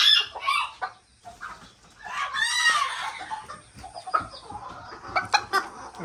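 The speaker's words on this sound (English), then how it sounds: "Here's our old English. He's starting to molt." An Old English Game bantam rooster that is starting to molt clucks and calls in short, varied bursts at close range, with brief pauses between the phrases.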